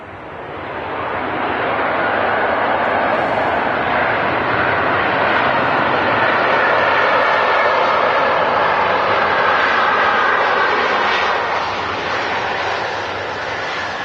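A Jet2 Airbus A330-200 wide-body airliner lands and rolls out at Manchester Airport, a loud, sustained roar of engines and reverse thrust that builds quickly, holds steady and eases slightly near the end.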